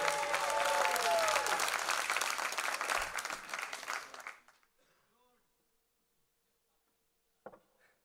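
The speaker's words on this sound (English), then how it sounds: "Let's give him a big round of applause." Loud, dense applause and cheering from an audience at a reunion music show, sustained for about four seconds before fading into near silence, with a brief sound near the end.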